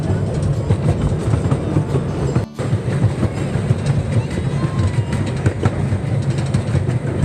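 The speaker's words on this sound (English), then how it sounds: "All right, there it is, the Santa Fe Railroad." A train on the Santa Fe Railroad line rumbles past near McCormick-Stillman Railroad Park in Arizona, a steady close clatter of wheels and cars with rhythmic clicking throughout, loud and continuous.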